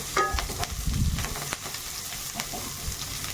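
Onions sizzle in a hot pan for palak dalma, a brief burst of frying with a few clattering stirs, close and loud at first, then settling into a quieter hiss.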